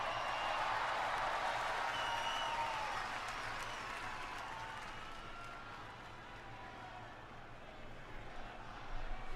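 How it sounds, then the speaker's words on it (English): Arena crowd applause at WWE Monday Night Raw, a big sustained roar of clapping and cheering that slowly fades, then swells again at the end. "Give yourselves a round of applause."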